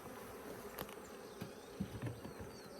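Africanized honey bees buzz faintly inside an inherited hive, a soft steady hum with a few light taps and knocks scattered through it.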